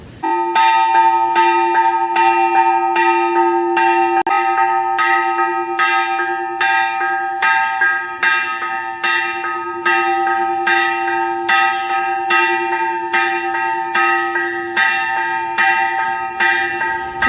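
A temple bell at the entrance of a Sri Lakshmi Venkateswara Swamy temple in Kadapa rings repeatedly in a steady rhythm, each clear metallic strike layered over a long, sustained ringing hum, loud and close.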